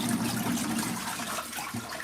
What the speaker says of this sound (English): I think that's gonna be another one rinse cycle